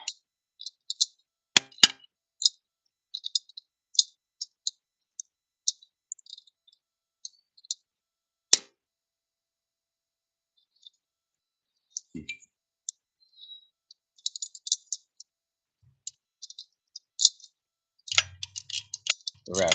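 A ratchet wrench being worked during a head gasket job on a 2009 Jeep Commander 3.7L engine, giving bursts of quick sharp clicks separated by silences, close and crisp, with faint other clatter near the end.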